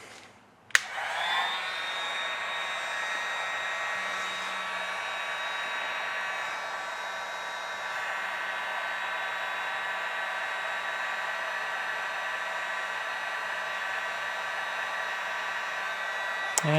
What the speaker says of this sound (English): So let's get started with the heat gun.